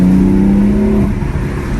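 A BMW M4 with a straight-piped exhaust gives a brief, loud, raspy engine burst that settles into a rumbling idle, heard up close with no talking.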